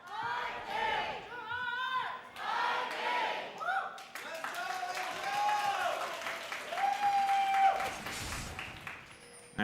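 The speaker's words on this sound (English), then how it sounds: "the home crowd here for the LCP, cheering teams on" Home crowd at the LCP esports season finals cheering and applauding in a loud arena, the roar rising and falling under continuous excited caster commentary.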